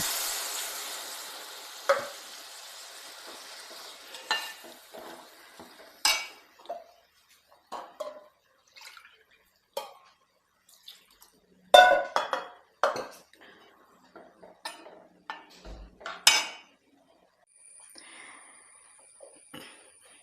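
Coconut milk poured into a pan and stirred, heard as a soft wash of liquid followed by a run of scattered spoon scrapes and metallic taps against the pan, quiet between the clinks.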